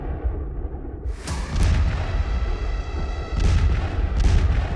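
A Javelin missile strikes a tank on an open field, making a loud, heavy blast. Two more deep booming bursts follow over a rumbling background, with no talking.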